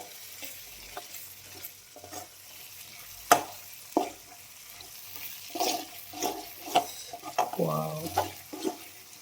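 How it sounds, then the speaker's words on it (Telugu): Masala being stirred and fried in a pan for egg masala gravy curry, with a steady soft sizzle under repeated scraping and stirring strokes in an irregular rhythm, close and fairly quiet, with no talking. "మసాలా అయితే బాగా వేగింది."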